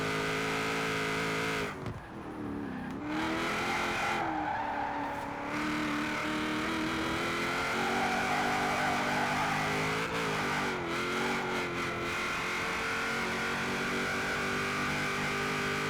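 A car with an LS engine in the racing game Forza Horizon 4 revs loudly and steadily, its engine note rising and falling through several throttle changes, with no voices.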